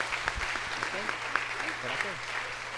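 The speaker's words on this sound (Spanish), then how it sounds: "Denle otro aplauso," A church congregation applauds steadily and densely, a sustained wash of clapping from a crowd, with a voice speaking over it.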